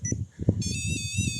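A REM pod ghost-hunting device set up on an empty school playground gives a steady electronic beeping tone that starts abruptly and holds, heard after a few muffled thumps and handling noises.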